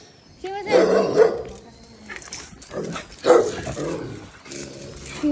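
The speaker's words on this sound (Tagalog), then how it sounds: "May nakasalubong kaming napakalaking aso." A very large dog in Japan in autumn gives a couple of deep, loud barks close by, mixed in with people talking excitedly over and around the barking.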